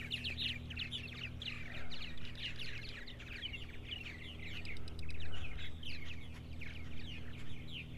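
Purple martin colony around nest houses on a July summer morning, many birds chattering and chirping continuously in dense overlapping calls, lively and fairly close, over a steady low background hum.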